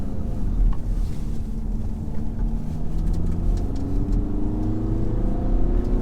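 A 2017 VW Tiguan with a 150 hp 2-litre diesel engine and DSG gearbox accelerates, its engine note climbing steadily under a loud wash of wind and road noise.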